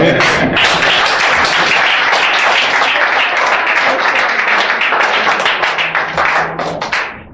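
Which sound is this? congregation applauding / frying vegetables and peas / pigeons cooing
congregation applauding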